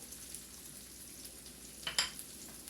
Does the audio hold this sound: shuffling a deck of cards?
no